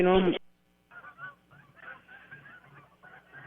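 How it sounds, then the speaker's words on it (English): Canada geese honking repeatedly while flying overhead, a loose, overlapping chorus at a moderate distance, after a brief burst of voice at the start. "it sounds like you got geese flying north"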